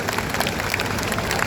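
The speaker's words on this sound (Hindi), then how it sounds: "ताली आप सबकी तरफ से।" An audience at a government job appointment-letter ceremony in Haryana claps steadily, a dense patter of many hands heard throughout with no gaps.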